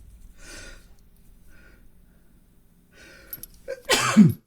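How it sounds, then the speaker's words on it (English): Faint breathy sounds build to a single loud, sharp sneeze near the end. "I'm sorry. I had to sneeze."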